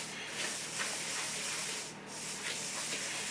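Dry granola mixed with coconut being stirred in a bowl, a soft, steady scraping and rustling with faint rhythmic swishes, close and quiet with no talking.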